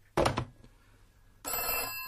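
An old telephone bell rings twice, a short burst, then a pause, then a second longer, bright ring, close and loud with no talk.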